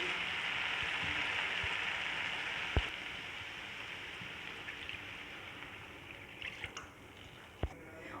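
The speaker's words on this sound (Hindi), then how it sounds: "अब इसमें पानी ऐड करूँगी" Water poured into roasted masala in a pan gives a steady hiss and sizzle that gradually fades, with a few sharp clinks of a utensil. It is close, with no talking.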